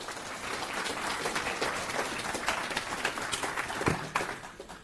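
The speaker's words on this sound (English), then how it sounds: "Give a big round of applause, please." Audience applause at a FOSDEM 2024 open-source conference talk, a dense, steady burst of many hands clapping that fills the whole stretch with no voices over it.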